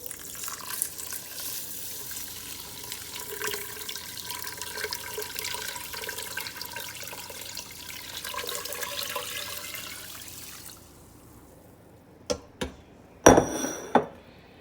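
A kitchen tap runs steadily into a cooking pot as about eight cups of water are measured for rice. The rushing flow lasts around ten seconds, then cuts off, followed by a few sharp clunks with no talking.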